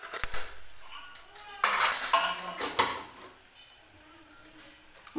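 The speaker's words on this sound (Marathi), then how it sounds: "मसाला टाकून घेतल्यानंतर हे सर्व मसाले परत एकदा तेलामध्ये व्यवस्थित परतून घेणार आहे।" Turmeric, coriander powder and garam masala stirred into hot oil in a pan, with clinking metal spoon scrapes against the pan in short bursts and a faint sizzle between them.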